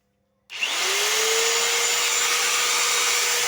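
An angle grinder, just repaired with a new armature, switches on after a moment of silence and spins up to a steady, loud, high whine that holds without a break.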